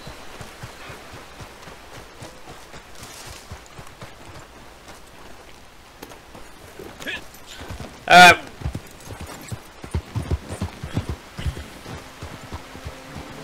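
Horse hooves clip-clopping in Red Dead Online, a soft steady trot under people talking, with one sharp louder hit midway and rain-like patter in the background.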